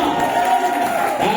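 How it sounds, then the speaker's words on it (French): Congregation at a French-language spiritual seminar crowd cheering in acclamation, a sustained dense roar of many voices, loud and continuous throughout. "Acclamation du berger national."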